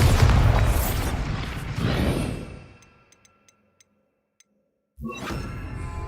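A Bombarda explosion spell goes off in the video game Hogwarts Legacy, two loud booming blasts rolling out and decaying into faint ticks and silence before another heavy impact.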